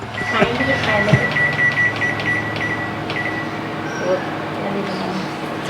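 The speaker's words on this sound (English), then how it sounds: "And then stick in microwave. 5 minutes." A microwave oven cooking Thai sticky rice hums steadily while several beeps sound in a row, with people talking over it.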